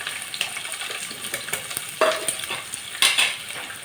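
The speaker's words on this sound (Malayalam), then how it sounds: "ഇതിലേക്ക് നമുക്ക് സവാളയും" Onion, chilli and curry leaves fry in sunflower oil in a pan, a close, steady sizzle broken by a few sharper scraping stirs, with no talk.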